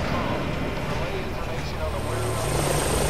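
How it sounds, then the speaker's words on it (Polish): A flying drone in Batman: Arkham Origins, a steady whirring, rotor-like drone hum that stays continuous and fairly loud, with a speaking voice over it. "Tutaj jakiś dron jest."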